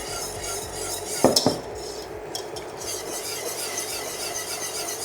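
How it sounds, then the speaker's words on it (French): A whisk scrapes and clinks against a pan while stirring a traditional roux for blanquette de veau, with a couple of sharp metallic knocks early on, then quieter steady stirring under faint kitchen noise. "Je vais prendre le fouet."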